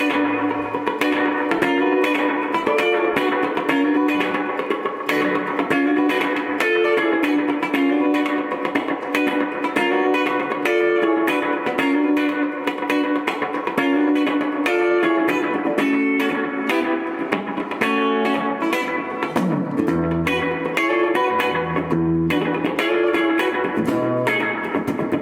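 An electric guitar plays continuously through a Homebrew Electronics Mimic analog slapback delay pedal, its busy picked notes trailed by short, warm repeats and a touch of grit, filling the whole passage without any voices.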